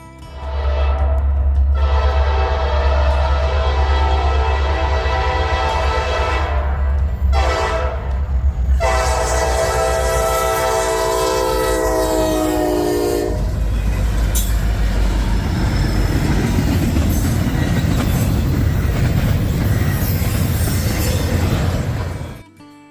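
An NS SD60E diesel locomotive passes, its loud multi-tone horn sounding in long blasts over a heavy engine rumble, then rolling wheel and car noise that continues steadily before ending abruptly.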